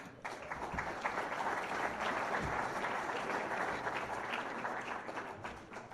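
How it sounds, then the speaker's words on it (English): Banquet audience applauding the Hall of Fame inductees, a sustained, even round of clapping from a large room that holds steady, then eases slightly at the end. "please give all of them a great round of applause"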